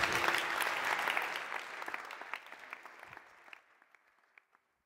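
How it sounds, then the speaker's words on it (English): A crowd applauds loudly, then the clapping thins out and fades to a few scattered claps before silence. "Big applause."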